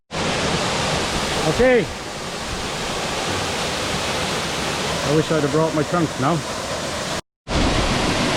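Waterfall on Koh Chang, a steady broadband rush of falling water running almost throughout, with someone talking over it at moments.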